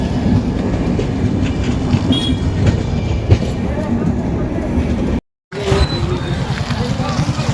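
A train passing at a railway level crossing near a market, loud and close with continuous rumbling wheel clatter and brief squeals, a sudden short dropout near the end before the rumble resumes.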